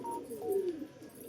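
A white female Matadz pigeon coos once in a short, soft, rolling call, close by with no other sounds around it.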